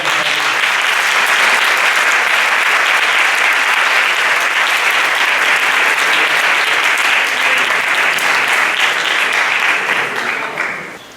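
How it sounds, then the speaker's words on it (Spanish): Loud, sustained applause from a large audience, steady clapping throughout that fades slightly at the very end. "entonces un fuerte aplauso para José María."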